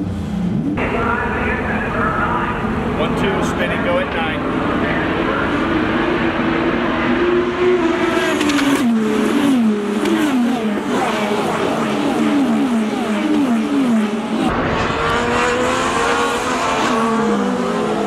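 IndyCar race cars drive at speed around a circuit, engines droning and whining continuously with rising pitch sweeps as cars pass, loud and sustained, while a voice talks over the racing.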